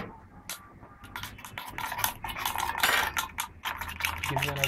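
A spoon stirs bentonite slurry with raw salt in a small beaker, giving rapid irregular clinks and scraping close by that grow busier toward the middle, with no talk.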